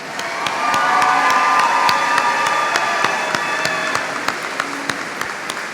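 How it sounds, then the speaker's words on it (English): A large graduation-ceremony audience for the Monroe High School class of 2018 claps loudly and steadily, with scattered cheers and whoops rising through the dense applause before it begins thinning out toward the end. "Let us have another round of applause for them."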